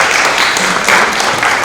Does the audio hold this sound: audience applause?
yes